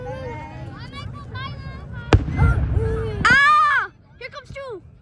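Home fireworks on the 4th of July: a sharp crack followed by a loud whooshing burst, under excited voices and children talking throughout.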